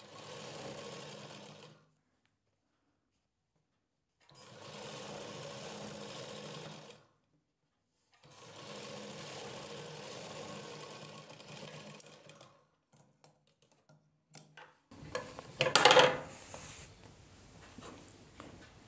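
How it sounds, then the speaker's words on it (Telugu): A sewing machine runs long basting stitches on a blouse in three separate bursts of steady, fairly quiet whirring with pauses between them, followed by some faint handling noises and a brief louder clatter near the end. "అది 5వ నెంబర్లో ఇలా పెట్టుకుని పెద్ద కుట్టు వేసుకుంటూ వచ్చేయాలి"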